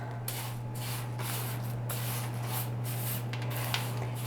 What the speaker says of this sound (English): I stir it in